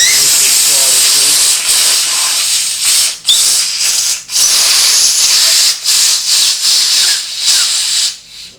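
Compressed air blasting from a nozzle to slide a grip onto a Honda motorcycle throttle tube, a loud continuous hiss with brief dips and sputters.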